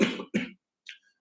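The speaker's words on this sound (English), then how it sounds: "Oh my God, this cough." Two harsh coughs in quick succession, close and fairly loud, followed by a faint short throat sound and then silence.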